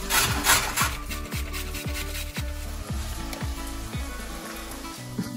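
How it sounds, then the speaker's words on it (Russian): A carrot is grated on a coarse grater in a home kitchen, making about ten rhythmic, scraping strokes close up, roughly two per second, with no talking. "я потру морковку на крупной терке"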